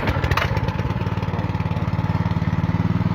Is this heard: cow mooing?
no